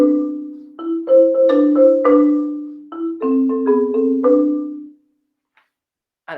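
Marimba melody with a second voice added beneath it, struck notes sounding in parallel over two phrases, close and unaccompanied, then a brief silence near the end.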